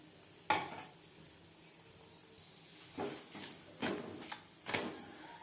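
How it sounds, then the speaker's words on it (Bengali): A whole-wheat flour paratha fries in a pan with a soft, low sizzle, broken by a few sharp spatula scrapes and clanks as it is turned. "তিন চারবার উল্টে পাল্টে ভেজে নেব"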